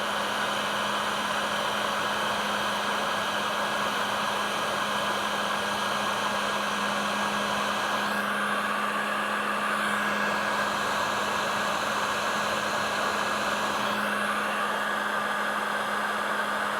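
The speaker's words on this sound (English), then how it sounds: "I'm just going to take this heat gun and I'm going to aim directly at the solder in the middle" A heat gun blows hot air on solder heat shrink, a loud continuous rushing hiss with a steady motor hum that runs unbroken throughout, with no voices.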